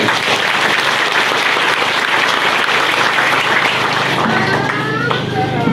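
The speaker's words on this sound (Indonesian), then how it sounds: "Mari kita berikan tepuk tangan untuk Tuhan dulu" A church congregation at a Papuan celebration claps loudly and continuously, a dense wall of applause from start to finish.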